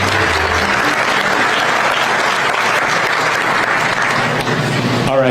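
A large audience at an EV factory groundbreaking ceremony for VinFast claps loudly and continuously, a dense wash of applause that ends with a brief voice at the close.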